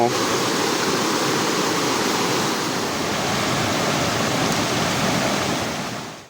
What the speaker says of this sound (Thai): เนี่ยจะล้างหน่อไม้ของเรา